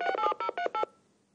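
Five DTMF keypad tones dial a telephone number in quick succession, each clear and loud with short gaps between, then a faint fading tail.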